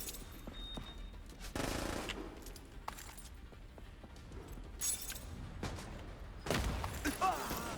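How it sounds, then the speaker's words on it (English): Bursts of video game gunfire, including rapid automatic fire, break out in a few loud clusters over a low busy background of mechanical noise and faint distant shots. "Was that gunfire?"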